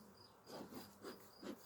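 Honeybees buzzing at an open hive as frames are worked, a steady close hum that swells in several soft pulses, quiet overall with no talk.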